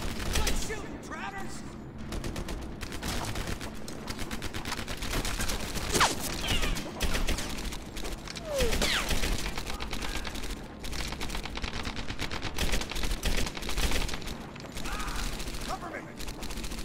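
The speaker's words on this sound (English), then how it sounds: "Shooting." Sustained gunfire in Medal of Honor Airborne, fired during a fight around a sniper tower: dense rattling bursts and scattered shots run throughout, close and steady, with a voice talking over the combat.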